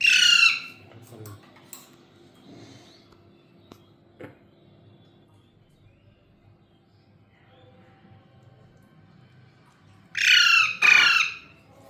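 A pet parrot named Tiya squawks loudly at the start, then again in two harsh bursts near the end, restless for food. Quiet room noise fills the long gap between calls, and no one speaks.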